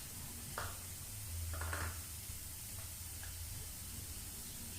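Masala paste fries in a pan for a bottle gourd and fish curry, making a faint, steady sizzle with a few soft stirring scrapes and clicks.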